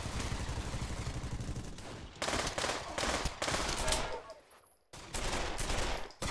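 Rapid gunfire from weapons in the VR shooter game Pavlov VR, dense bursts of shots rattling on loudly in waves with brief pauses between volleys, and no voices over it.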